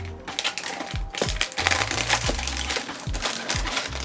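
Packaging for Bose QC35 replacement ear cushions is torn and opened up close, a loud burst of crinkling plastic and papery crackles with sharp snaps scattered throughout.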